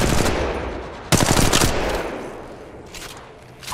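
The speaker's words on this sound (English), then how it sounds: "Opening fire." Automatic gunfire in Apex Legends: a loud burst of rapid shots, a sharp louder volley, then fading echoes and a few scattered later shots.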